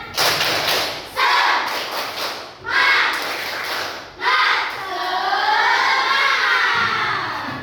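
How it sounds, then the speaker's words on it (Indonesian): Classroom of children doing rhythmic 'tepuk semangat' cheer clapping in bursts, loud and close, with shouting voices mixed in and a wavering sung or chanted tone near the end. "Ayo kita tepuk semangat sekali lagi yang semangat."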